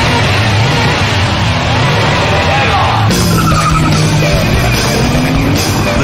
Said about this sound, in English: The Jag got off to a flying start, but as the race progressed, the Aussie started to close the gap